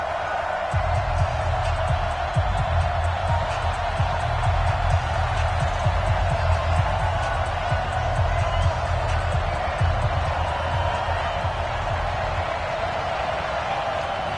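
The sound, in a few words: football stadium crowd before Ravens vs Cowboys Thanksgiving game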